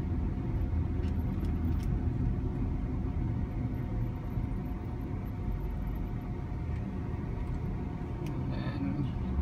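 A self-driving car cruises steadily at about 30 km/h, a constant close engine and road rumble with tyre noise running throughout and no pauses.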